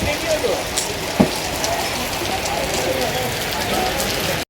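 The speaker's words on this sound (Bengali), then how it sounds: "আর কত জোরে বৃষ্টি চলে এসেছে" Heavy rain pours steadily on surfaces around a street near Tarapith, a dense, loud, even hiss throughout with a faint voice and occasional knocks underneath.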